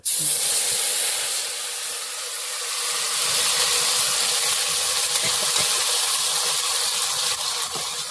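Spice paste tipped into hot oil for a Bengali tel koi fish curry, bursting into a loud, dense, continuous sizzle and hiss that holds steady close up throughout.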